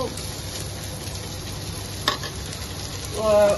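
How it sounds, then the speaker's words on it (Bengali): Seekh kebabs fry in oil in a pan at home, a steady close sizzle with a sharp scrape near the middle and a louder burst of crackling at the end. "আর বাড়িতে আমরা করছি ওই জন্য তেলে ভাজছি"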